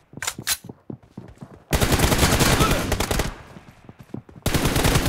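Bursts of rapid automatic gunfire in the PUBG shooter game, loud and dense, with a few sparse shots between two long sustained volleys and another volley at the end.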